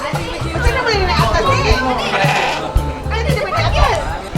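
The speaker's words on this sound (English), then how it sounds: "I can already hear the sheep." Several sheep bleat close by at a sheep sanctuary in Cameron Highlands, Malaysia, their wavering calls overlapping with people chattering in the background.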